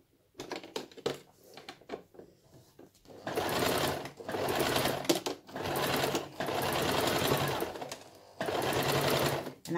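A sewing machine stitches a cushion cover made from dish towels, running in short bursts and then longer steady runs of rapid mechanical clatter, close and clear with brief pauses between.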